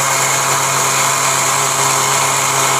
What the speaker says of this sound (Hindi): ये काली मिर्च को ग्राइंड किया जा रहा है